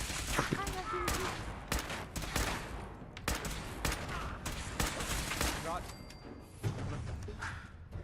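Gunfire in Fallout 4 crackles in rapid bursts, sharp shots rattling out in quick irregular volleys at close range, interleaved with someone talking throughout.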